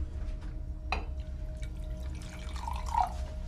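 A drink is poured in a quiet film scene: a single glassy clink, then a brief, faint trickle of liquid against low background hum.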